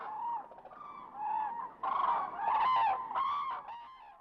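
Common cranes call at the Gallocanta lagoon wetland: a loud series of bugling, trumpeting calls from several birds overlapping in bursts, fairly close and with no voices.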